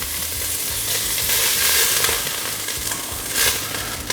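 Beef flank searing in a hot pan, a steady close sizzle with crackling bursts running throughout and no voices.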